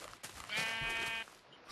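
A single Minecraft sheep bleats clearly in the 1.8 update, a wavering nasal baa of about a second over faint background game noise.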